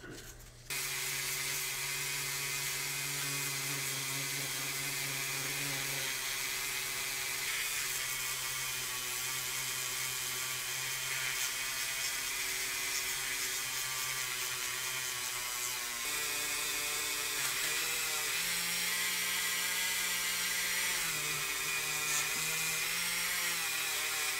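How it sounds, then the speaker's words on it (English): Power polisher buffing out 2000 grit scratches on a wheel, a continuous whirring drone with layered motor tones that shift pitch slightly partway through, loud and steady with no talk. "I'm going to be able to polish 2000 grit scratches out, no problem."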